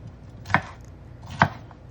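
Knife chopping green bell pepper and poblano pepper on a board, two distinct crisp thuds spaced about a second apart, close and clear with no talking.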